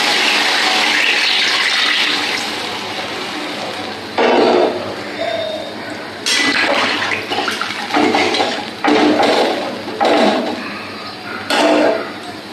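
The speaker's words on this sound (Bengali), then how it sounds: "এই পর্যায়ে আমি সেদ্ধ হওয়ার মতো জল দিয়ে দেবো।" Water is poured into a pan of simmering fish curry, a splashing gush in several bursts with short gaps and a bright hissing spray, fairly loud and close.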